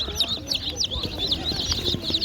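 Several chickens and young chicks clucking and chirping in a steady, busy chatter, close by, with soft background noise and no talking.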